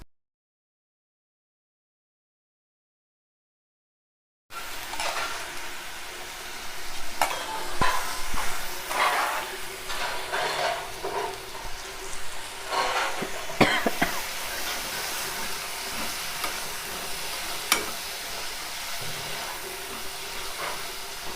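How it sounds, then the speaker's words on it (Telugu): Soaked lentils fry in oil with a steady sizzle that starts after several seconds of silence, broken by occasional scraping and clinking of a stirring spoon in the pan. "ఇలా 5 నిమిషాలు మంచిగా మగ్గాలి నూనెలో పప్పు."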